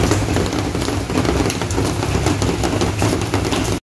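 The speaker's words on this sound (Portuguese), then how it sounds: "lá fora tá chovendo" Steady rain falls outside, a dense continuous hiss of drops hitting surfaces with faint low rumbling underneath, loud and even throughout before cutting off abruptly at the end, no voices.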